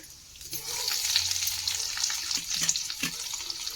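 Crushed garlic goes into hot oil with lentils and cumin for tamarind rice, giving a soft, steady sizzle with light stirring scrapes close by in a home kitchen.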